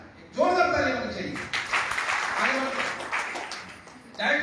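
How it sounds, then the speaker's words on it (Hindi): Audience clapping breaks out at a direct-selling business seminar in Hindi, a burst of applause that swells and holds for several seconds before fading, with a voice briefly heard over it. "जोरदार ताली होनी चाहिए।"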